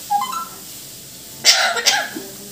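A parrot imitates a human cough, giving a few short, close, throaty coughing bursts after some earlier faint chirpy vocal sounds.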